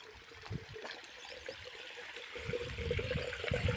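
Irrigation water runs through a farm channel in a Gujarati village field, giving a soft, steady trickle and gurgle that swells slightly toward the end, faint and close with no voices.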